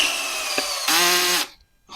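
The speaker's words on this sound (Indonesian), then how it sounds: "pakai bor nih" A Zentor 12V cordless drill in torque mode whirs loudly up close, first a high spin, then a strained, lower-pitched run for about half a second before stopping abruptly.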